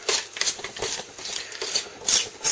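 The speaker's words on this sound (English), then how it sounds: "Stir it around and give it a shot." A utensil stirs a chipotle chicken marinade in a bowl, giving close scraping and clinking strokes in an uneven rhythm across a few seconds with no talking.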